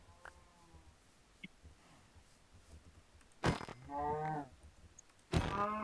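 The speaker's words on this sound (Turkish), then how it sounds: "Aa inek var." A cow mooing in the Minecraft video game, two loud drawn-out moos after a quiet stretch, close and alone.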